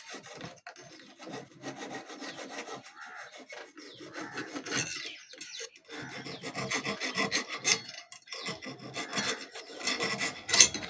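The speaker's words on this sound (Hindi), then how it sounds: "आप इस रेती दे नाल इसके पॉइंट थोड़ा जिहा साफ कर लेना है" Small file rasping on the contact points of an electric iron's thermostat, repeated scraping and rubbing strokes at close range, alone with no voices.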